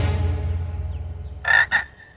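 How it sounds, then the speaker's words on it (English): A frog in an animated show croaks once, then gives two quick, loud, close croaks that end the short clip. "He's talking to the frog again."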